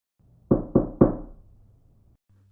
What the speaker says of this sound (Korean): 그렇게 눕는 순간 트렁크 쪽에서 노크 소리가 들리더군요.